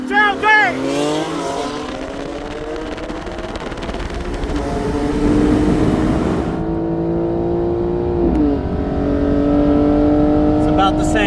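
A 2025 BMW M4 Competition with bolt-ons on E85 and a 2024 Porsche 911 Turbo S with bolt-ons pull hard in a highway roll race, engines climbing through gears with rising pitch and shift drops, loud and close, with brief voices at the start.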